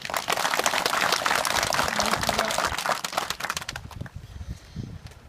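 Audience applause for city officials at a citizens' briefing on a waste landfill survey in Jecheon: dense, sustained clapping from a crowd that fades out after about four seconds, leaving quiet room tone.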